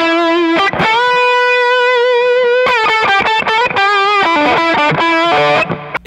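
An electric guitar lead run through a Ruach Amp Juice pedal set as a solo boost gives a loud, driven tone, with sustained bends and quick picked phrases and no talking.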